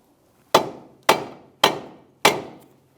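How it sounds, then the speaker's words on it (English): Four sharp, evenly spaced thwacks ring out as a rubber mallet taps the steering knuckle of a 2009-2014 Nissan Maxima during a front driver-side CV axle replacement, each strike close and loud with a quick decay. "you can tap that with a rubber mallet"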